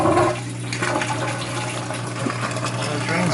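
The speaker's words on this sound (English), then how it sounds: "The drain's working good." Water rushing out of a Maytag washer's drain pump during a diagnostic test, a steady continuous gush with a faint pump hum, close and fairly loud throughout.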